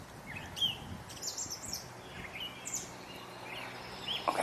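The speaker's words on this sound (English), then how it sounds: "we're hearing a catbird sing and red-winged blackbirds sing" Catbird and red-winged blackbirds singing outdoors near water, a scatter of clear chirps, trills and warbled phrases at moderate distance, repeating throughout over a soft ambient background.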